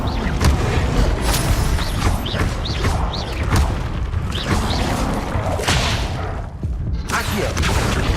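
An Incendio fire spell cast in Hogwarts Legacy bursts out as a dense whooshing, booming roar over busy combat noise, loud and continuous, with sweeping swishes and thuds throughout.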